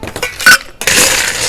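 Ice cubes clink and rattle into a glass while a Bloody Mary is assembled, a quick cluster of bright, close hits followed by a softer sustained clatter.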